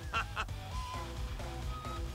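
Chicken in the Hyrule Warriors video game gives a few short squawking clucks over layered game music, with a brief pair of sharp calls near the start.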